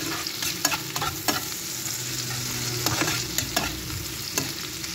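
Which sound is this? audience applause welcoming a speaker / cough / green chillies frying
green chillies frying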